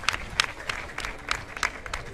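A boxing-arena crowd applauds a fighter entering the ring, with a dense wash of clapping and rhythmic louder claps recurring steadily throughout.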